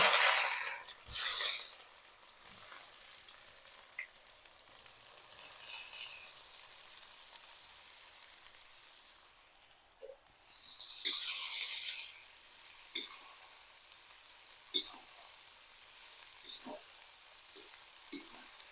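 Onions sizzling in hot oil with cumin seeds in a pan, soft bursts of frying hiss and stirring scrapes coming and going, close and fairly quiet, with no talking.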